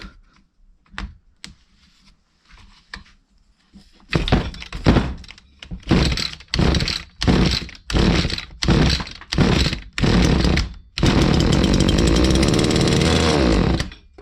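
Stihl FS86 strimmer with a Walbro carburettor being pull-started: a series of loud regular bursts as the cord is yanked, then the two-stroke engine catches and runs in a continuous loud buzz close by.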